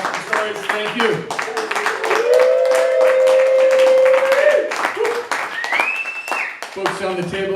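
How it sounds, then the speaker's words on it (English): An audience claps and whistles for poet Joyce Lee at a reading: dense, steady clapping with sharp whistles rising over it and voices through the whole stretch. "Another round of applause for Joyce."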